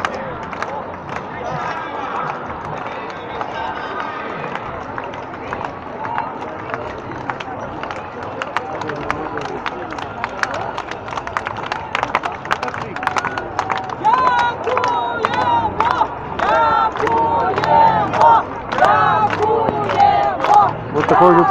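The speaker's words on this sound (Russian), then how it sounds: "А вот тут толпа народа благодарит их за победы на фронтах." A crowd on Khreshchatyk in Kyiv on Independence Day, 24 August 2019, cheers and shouts as soldiers march past. The noisy, rising hubbub with footsteps builds toward the end, and people talk close by.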